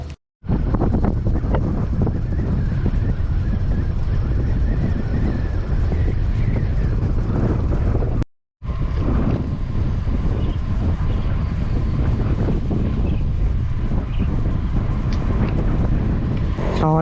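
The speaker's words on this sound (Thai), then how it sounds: "อากาศมันเย็นๆนะลมก็แรง" Strong wind buffets the microphone in a constant loud roar, broken by one brief dropout partway through.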